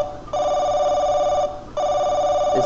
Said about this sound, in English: Ah, the phone's ringing.